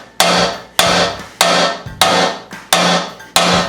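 A big hammer bangs in a garage, six heavy, evenly spaced ringing blows about half a second apart, each decaying before the next, loud and close with no talk.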